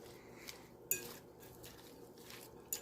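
Coleslaw dressing made with milk is stirred in a bowl, giving soft scraping and a few light clinks of a utensil against the dish, quiet and close with no talking.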